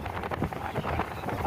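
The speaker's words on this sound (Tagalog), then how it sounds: "Mahangin." Strong wind gusts at Alcatan Beach beside an old shipwreck, a rough, buffeting rush that batters the microphone continuously, loud and close with no talk.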